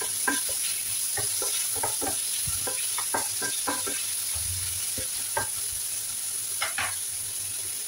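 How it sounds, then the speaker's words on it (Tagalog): Tomato is stirred in a hot frying pan, giving a soft steady sizzle with repeated scraping strokes of the utensil, close and fairly quiet, with no talking. "lagyan natin yan, haluin lang natin"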